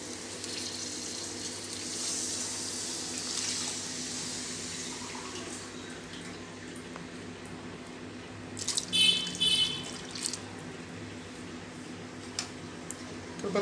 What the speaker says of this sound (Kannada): ಈಗ 2 ಕಪ್ ನೀರು ಹಾಕೋತೀನಿ.